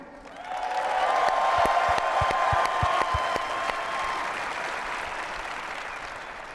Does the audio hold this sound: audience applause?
yes